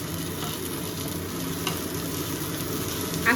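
Chopped onions fry in hot oil for a spicy crab curry, a loud, steady, crackling sizzle filling the whole stretch with no voices over it.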